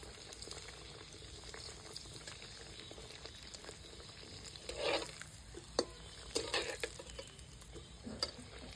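Paneer and potato kochuri fry in hot oil on a stove, a faint bubbling sizzle with occasional soft taps and scrapes of a utensil, quiet and without voices.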